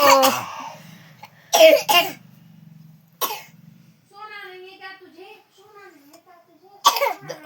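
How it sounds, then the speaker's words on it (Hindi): A few sharp coughs break out between bursts of chatter, followed by a voice murmuring and a brief laugh-like sound; speech surrounds them. "उन्हें ऐसी खांसी नहीं आती तुम्हारी तरह, देखो ऐसे खांसते हैं वो"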